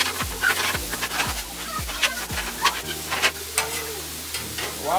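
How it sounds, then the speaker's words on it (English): Ground meat browns on a Blackstone griddle with a steady sizzle, punctuated by close scraping and tapping of a spatula against the flat-top. "brown meat cooking"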